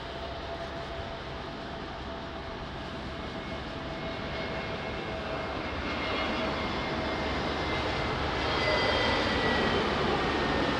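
An airliner on approach to runway 02 at Lisbon Airport rumbles steadily at a distance, its engine roar slowly swelling louder toward the end.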